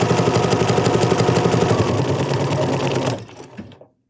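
A BERNINA sewing machine runs steadily, stitching a decorative pattern in a fast, even, buzzing rhythm for about three seconds, then stops automatically, leaving a short quiet tail.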